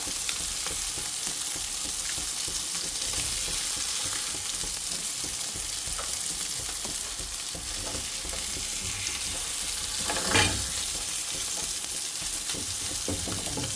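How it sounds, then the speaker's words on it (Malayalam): Pieces of king fish frying in hot oil, a loud steady close sizzle with a continuous hiss and a brief burst of bubbling crackle near the end, no talking. "ഈ പൊരിച്ച മീൻ നമുക്ക് ഇങ്ങോട്ട് കോരിയെടുക്കാം."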